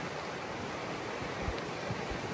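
Atlantic Ocean waves wash against the foot of the cliffs at Sines, Portugal, heard as a steady, soft, broadband roar with faint wind and a few low surges.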